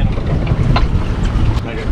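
Strong wind roars and buffets steadily across the microphone outdoors on a boat, a continuous rumbling gust with no talking.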